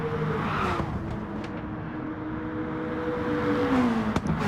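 Racing cars in a touring-car video game, a Porsche among them, engines droning and shifting pitch as they drive through a run of corners, loud and steady with a brief sharp click near the end.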